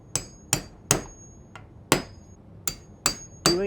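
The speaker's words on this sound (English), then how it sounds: "I'm just going to use this little extra drill extension I have with a hammer, and it doesn't really take more than a few taps to secure it in place." A hammer strikes a drill extension used as a nail punch, driving a track nail into a model train layout: seven sharp metallic taps at an uneven pace, close and distinct, with a faint ringing after each.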